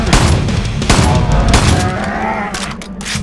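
Loud shotgun blasts in the hunting game BigFoot, several sharp booming shots in quick succession over a rumbling background with a low animal-like groan mixed in.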